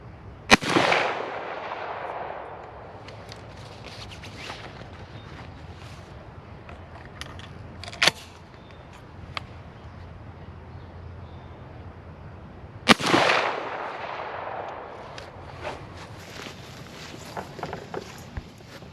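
A 12-gauge shotgun fires 3-inch BB waterfowl loads outdoors at a 30-yard target: two loud, sharp blasts with long rolling echoes, about twelve seconds apart, and a fainter crack between them.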